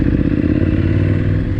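An adventure motorcycle idles and takes a light blip of throttle during a slow enduro balance drill, a steady low engine rumble close by with some clatter, with no voices over it.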